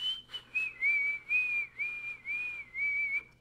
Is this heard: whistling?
yes